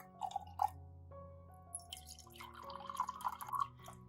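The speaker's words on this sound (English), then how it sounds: "Add about 2 to 3 centimeters of water to the cup." Water splashes and trickles into a glass jar in a few short, close pours, with light dripping and gurgling bursts between quiet gaps.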